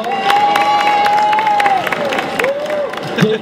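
An audience claps and cheers for four Birman cats at a pet show, a loud burst of applause with a sustained tone running over it and a voice briefly heard near the end.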